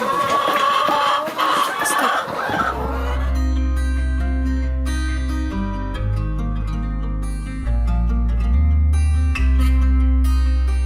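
Farm hens clucking and squawking loudly at first, then fading as a loud low musical drone and tones take over for most of the stretch.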